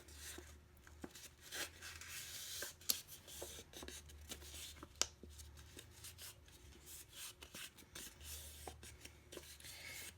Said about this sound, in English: I'm just going to fold it on its score marks.